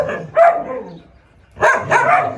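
A Gultair dog kept in a cage barks at close range in two loud bursts, each with a couple of rough barks and a short pause between them.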